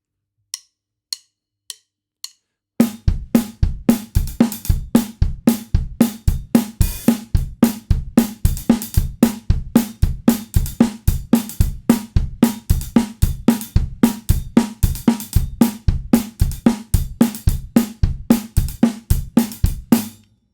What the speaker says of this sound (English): So you could throw different 16th notes in on the hi-hat,